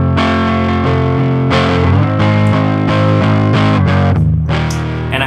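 Distorted electric guitar running through a Digitech CabDryVR cabinet simulator pedal, loud chords ringing and changing every second or so, heavy and saturated with no talking.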